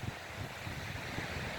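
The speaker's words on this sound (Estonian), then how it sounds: "aga sellegi poolest on siis tuul ja vahune laine" Wind buffeting the microphone over foamy sea waves breaking at Klooga beach on a breezy but not stormy day, a steady low rumble of surf and gusts with no voices.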